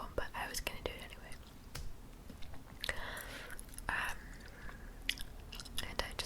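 Soft, close wet chewing of gum with small smacks and clicks in an ASMR setting, mixed with gentle whispering and breathy pauses.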